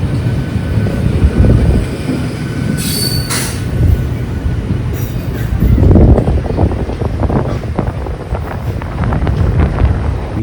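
A passenger train arriving at Palakkad railway station rumbles loudly from on board, with wheels squealing, heavy wind buffeting and a steady low roar throughout.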